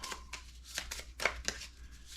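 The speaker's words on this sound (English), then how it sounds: "We have our action cards. We got to give them a good shuffle." A deck of action cards for a Ju 87 Stuka board game campaign is shuffled by hand, giving a series of soft, quick riffling and tapping bursts, close and fairly quiet.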